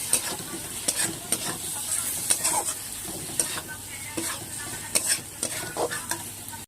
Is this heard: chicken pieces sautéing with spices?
yes